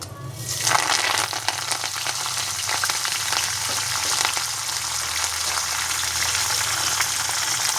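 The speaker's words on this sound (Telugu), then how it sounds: "జీలకర్ర, ఆవాలు, పోపు గింజలు 10-12 ఎండుమిర్చి, కొంచెం కరివేపాకు వేసేసుకోండి." Cumin, mustard seeds, dried red chillies and curry leaves hit hot oil in a pan for tempering, bursting into a loud, steady, close sizzle after a brief quiet start and hissing on without any voices.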